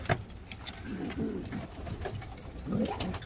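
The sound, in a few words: pigeons cooing in a loft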